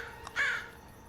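A single crow caws once, short and faint, against quiet background hiss in a Kannada film scene.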